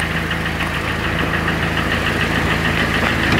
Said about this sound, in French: Attention, je vais reculer la voiture.